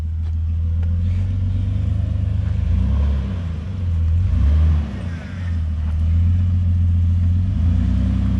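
A Jeep engine rumbles and revs at low speed while rock crawling over ledges on a 4x4 trail at Big Bear Lake, California, a loud, steady drone that swells and dips.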